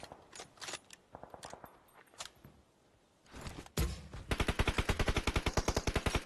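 Gunfire in PUBG Mobile during a tournament match: scattered single shots and short bursts, then a sustained rapid automatic volley, loud and close.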